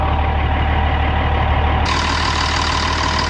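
A Wirtgen W1000 cold milling machine's diesel engine idles loud and close, a constant low rumble with a throaty mid-range drone that stays even throughout.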